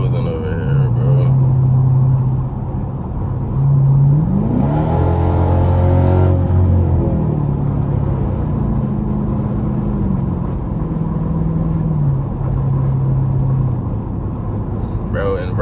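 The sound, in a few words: straight-piped Dodge Durango exhaust revving on highway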